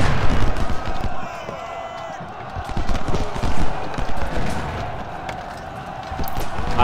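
Musket volleys and cannon fire from a Civil War battle in Ultimate General: Civil War, a dense, continuous din of crackling shots and deep booms with a busy, roaring battlefield texture throughout.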